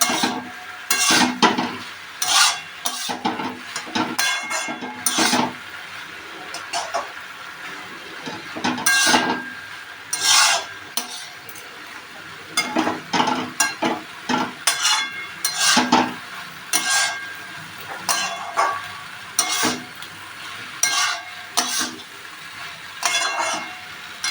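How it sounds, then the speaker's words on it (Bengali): Water spinach with jackfruit seeds stir-fried dry in a pan with turmeric and salt, a spatula scraping and knocking against the metal in repeated bursts over a faint sizzle, close and clear, no speech. "এটা একটু কষিয়ে কষিয়ে রান্না করতে হবে"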